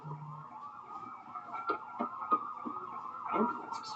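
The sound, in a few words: ambulance sirens in the video game Trauma Team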